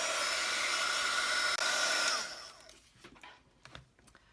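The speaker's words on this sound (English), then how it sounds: "I'll first just dry the gesso so we can get the black in between." A heat tool blows hot air to dry gesso on a junk journal page, a loud steady whirring hiss that cuts off after about two seconds, leaving faint handling taps and rustles.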